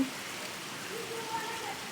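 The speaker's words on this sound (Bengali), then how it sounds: "আমাদের এলাকায় প্রচুর বৃষ্টি" Steady rain hisses broadly and evenly throughout, a continuous wash of falling water with no clear voices standing out.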